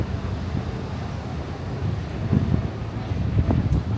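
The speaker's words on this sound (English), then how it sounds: "It's a little bit windy today on 125th Street." Steady wind buffets the microphone on 125th Street in Harlem, New York City, a low continuous roar with heavier gusts toward the end.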